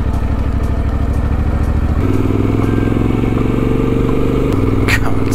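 A motorcycle pulls away in first gear on an adventure ride, its engine loud and close with a throbbing pulse that steps up in pitch as it accelerates, steady throughout.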